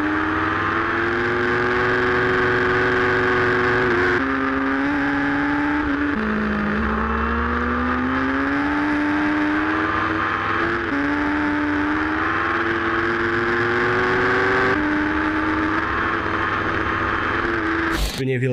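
A Kawasaki motorcycle engine drones loudly and steadily throughout, its pitch rising and falling in several stretches as the throttle is worked, with a brief burst of noise at the very end.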